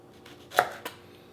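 A knife chops through Brussels sprouts on a cutting board, cutting them into quarters: two distinct close cuts, the first sharper and louder, a short pause between them, then quiet.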